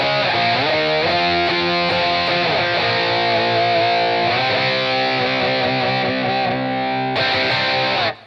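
Distorted electric guitar playing a song through a free NAM A2 amp-capture tone, a loud, dense sustained distorted tone with layered chords and lead lines throughout, cutting off abruptly at the end.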